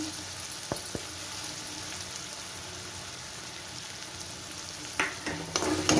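Cumin powder and spice paste stirred in a hot pan, a steady soft sizzle with a few scraping clicks from a spoon, growing a little louder and busier toward the end.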